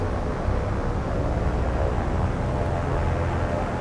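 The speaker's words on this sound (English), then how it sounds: "Second section's diving." Aircraft diving to attack in the naval war game War on the Sea: a steady, loud roaring drone of plane engines filling the whole stretch, broadband and unbroken, with no voices.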